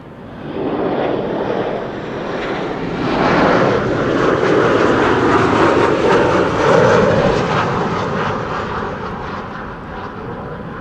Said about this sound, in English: Returning Embraer 190, originally outbound to Aberdeen, landing here on the Kaagbaan, seemingly without any issues.